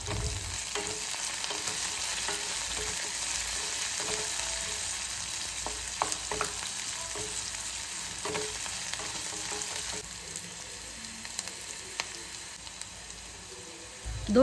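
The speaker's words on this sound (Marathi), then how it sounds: "आता यात उभ्या पातळ कापून घेतलेल्या मिरच्या घातल्या आणि मिरच्या तेलावर छान अशा फ्राय होऊन देऊ" Thinly sliced green chillies fry in hot oil with cumin, giving a continuous bright sizzle with occasional stirring scrapes and clicks, close and alone without any talk.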